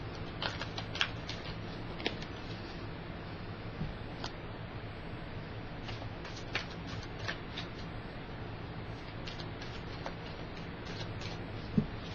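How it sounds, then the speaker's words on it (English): A deck of cards is shuffled during a tarot-style zodiac reading, soft repeated riffling and flicking with small sharp snaps, quiet and close with no talking. "let me shuffle just a little bit more"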